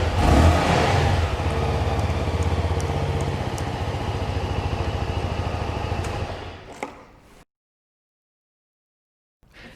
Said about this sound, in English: It really does sound quite nice for a 250cc motorbike.